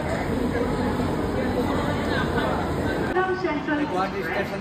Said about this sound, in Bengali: গুয়াহাটি স্টেশনে আইলাম গুয়াহাটিতে ট্রেন দাঁড়াইছে আধা ঘন্টার মতো দাঁড়াইব